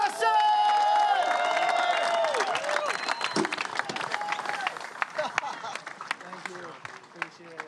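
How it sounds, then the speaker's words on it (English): A beach crowd at a pro surfing contest cheers, whoops and applauds a winner, loud at first with shrill whistles and shouts over dense clapping, then thinning into scattered claps as voices talk nearby. "Let's have a big round of applause and congratulations to Levi Slawson!"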